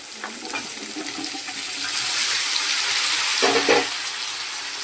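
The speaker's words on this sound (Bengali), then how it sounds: "এটা একটু ভাজা হবে।" Spices and green jackfruit fry in a pan with a steady sizzle that swells midway, broken by a few clatters and stirring noises.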